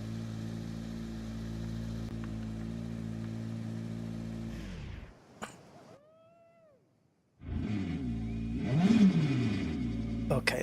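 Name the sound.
car engine revving in a racing video game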